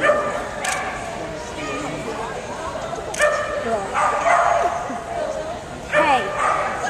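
Dogs give short yips, whimpers and a few barks at intervals, mixed with people talking and crowd noise at an outdoor dog event.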